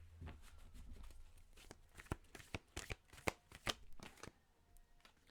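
Oracle cards shuffled by hand, a quick run of crisp riffling flicks and soft slaps close up, quiet and without speech.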